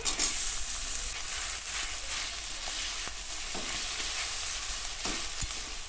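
Chopped tomatoes, a little chopped onion and spice paste fry in a pan for a mutton biryani, a constant close hiss with a few soft spoon scrapes while being stirred, no talking.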